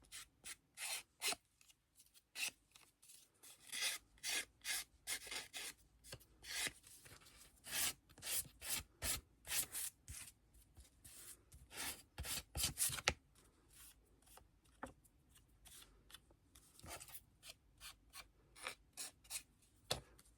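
A hand file rasps along the edges of decorative scrapbooking paper in quick, irregular bursts of scratchy strokes, close and fairly quiet, with short pauses between passes and no talking.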